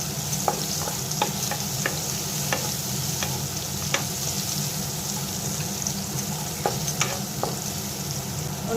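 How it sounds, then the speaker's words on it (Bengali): Chopped onion frying in hot oil with whole cardamom, cloves, cinnamon and bay leaf, a close, steady sizzle broken by light spatula taps and scrapes at irregular intervals. "একটা বড় কুচনো পেঁয়াজ দিয়ে দিলাম"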